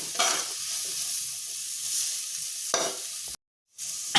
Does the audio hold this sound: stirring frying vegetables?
yes